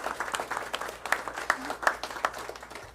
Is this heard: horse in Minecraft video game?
no